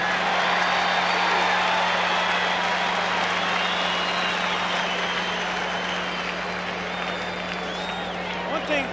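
A baseball stadium crowd at a 1985 World Series game applauding and cheering in a broad, sustained wash of clapping and distant shouts, with a low steady hum beneath.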